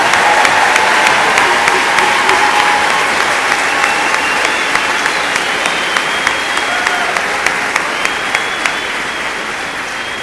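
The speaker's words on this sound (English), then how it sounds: "So let's all give a round of applause to this year's graduates." A large audience at a university commencement applauds the graduates, sustained dense clapping that fills the hall and slowly tapers, with no speech over it.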